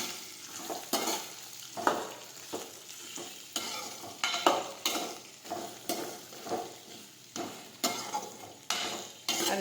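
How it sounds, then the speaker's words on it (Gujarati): Chopped spiny gourd with mustard seeds and cumin sizzles steadily in a pan, broken by a regular series of sharp scraping stir strokes roughly every half second, close and fairly loud with no voices. "સમારેલા કંટોલા નાખી દઈશું. હવે આપણે સાતળી લઈશું."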